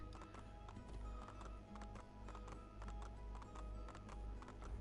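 Steady rhythmic hoofbeats of a galloping horse in the video game Assassin's Creed 2, close and continuous, with a game-like music or ambient bed underneath and no talking.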